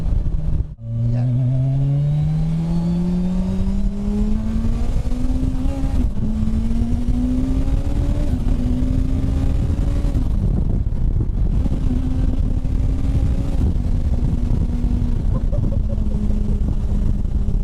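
A turbocharged Suzuki Hayabusa producing 450 bhp pulls hard on a road test drive, its engine note climbing steadily through several gears with brief dips at each shift. The roar stays loud and continuous from start to finish.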